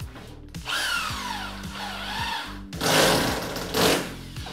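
A power screwdriver drives a screw fastening a steel profile to the top track while framing an anti-humidity gypsum board wall; the motor whines up and down in repeated bursts, with a louder rasping burst near the end, close and loud.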